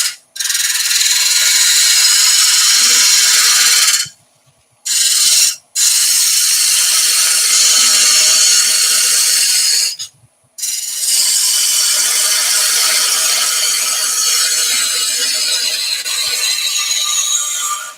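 A hand tool rough-shapes a wooden piece, skimming off its uneven surface in long, loud, steady rasping strokes broken by a few brief pauses between passes.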